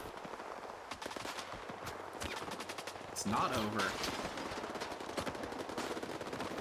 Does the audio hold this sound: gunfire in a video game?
yes